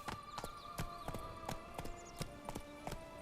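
A horse's hooves in The Witcher 3 video game, sharp regular clip-clop strikes at a quick trotting pace over a steady background tone, with no talk.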